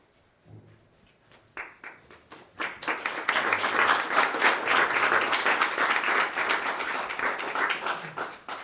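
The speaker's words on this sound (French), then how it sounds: "peut-être quelques applaudissements en plus parce que Bernard part à la retraite" Applause from an audience after a talk, beginning with a few scattered claps and swelling into steady, dense clapping from a room of people that continues to the end.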